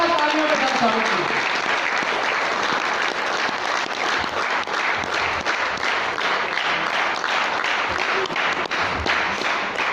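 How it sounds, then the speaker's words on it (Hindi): A training-event audience in Goa applauds to welcome a speaker on stage, steady loud clapping from a full room lasting throughout, with a short tonal sound at the very start. "जोरदार तालियों के साथ स्वागत कीजिए।"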